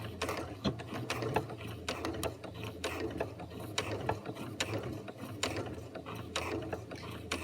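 Sewing machine stitching fabric Christmas bunting, a close, busy mechanical clatter of ratcheting and gear-like ticks running continuously throughout, with no voices.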